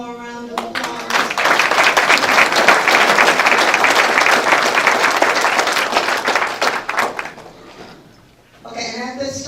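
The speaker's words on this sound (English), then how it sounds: "So can we give them just one more round of applause?" Banquet audience applauding honored veterans at a Veteran's Day event, a loud sustained burst of many hands clapping that fades near the end before a brief voice returns.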